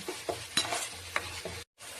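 Ginger garlic paste fries in hot oil with a crackling sizzle and several stirring scrapes of a spoon in the pan, cut off abruptly near the end.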